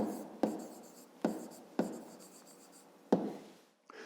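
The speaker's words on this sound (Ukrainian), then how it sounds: "Пишемо відповідь." A pen writes an answer by hand on paper for a fifth-grade math exercise, quiet scratching strokes broken by a few sharp taps, close and soft with no speech.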